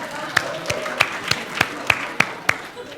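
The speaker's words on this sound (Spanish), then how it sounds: "un aplauso a ustedes" Audience applauding students at a talk, a sparse run of separate, sharp claps spaced fairly evenly, with faint murmuring in the room.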